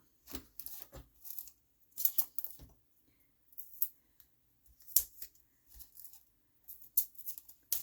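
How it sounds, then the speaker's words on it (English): Granddaughter's scissors snipping through craft foam, a series of short crisp cutting bursts separated by pauses, close and quiet with no talking. "They appear to be cutting the foam"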